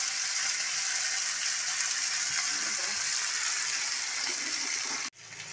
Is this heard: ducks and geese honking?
no